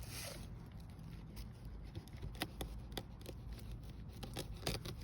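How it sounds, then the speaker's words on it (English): A small giant-pumpkin fruit is cut off the vine with a few quiet snips and rustles of leaves and stem, close and faint, with no talking. "we're just gonna go ahead and cut this fruit off right now"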